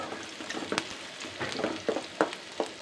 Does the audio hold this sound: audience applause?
no